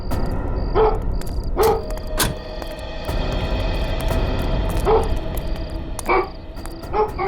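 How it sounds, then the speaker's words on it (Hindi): A dog barks in short separate bursts near a parked van as a man leads it over, moderately close, against a steady humming background without talk. "सर वो देखिए, एक आदमी कुत्ते को लेकर वैन की तरफ जा रहा है।"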